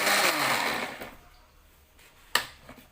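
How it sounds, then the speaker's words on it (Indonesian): A kitchen blender grinds a spice paste in a loud whirring burst that winds down to a quieter hum, followed by a sharp click near the end. "Kalau aku sih lebih suka di blender karena lebih cepat dan enggak ribet"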